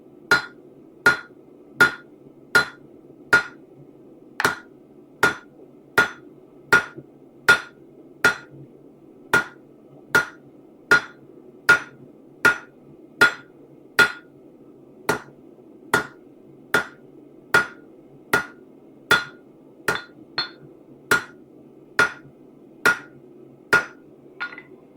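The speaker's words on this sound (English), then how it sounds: "by hammering it over the edge of the anvil." A blacksmith hammers hot metal leaf over the edge of an anvil, giving about thirty sharp, ringing strikes at a steady, even rhythm, loud and close with no talk.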